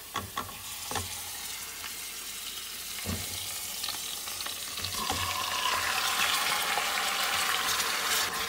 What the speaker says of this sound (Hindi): इसको हम लोग 10-15 मिनट के लिए अच्छे से भूनेंगे।